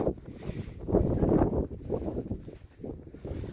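A bitter west-northwest wind buffets the microphone on the San Jacinto trail, rising and falling in gusty roaring surges that are loud and close.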